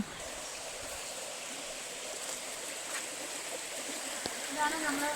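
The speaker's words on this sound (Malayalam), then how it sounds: "ഈ തോട് വെയിൽ കാലത്ത് ഇതുപോലെ ഒഴുക്കുണ്ടാവും" A small stream gurgles and trickles steadily in the background, fairly quiet, with faint bird or other outdoor sounds near the end.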